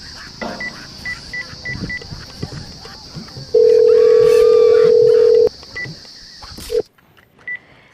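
A phone call to a customer care line: a run of short DTMF keypad beeps, then a long steady dial or ring tone lasting about two seconds, heard close over faint background noise and brief voices.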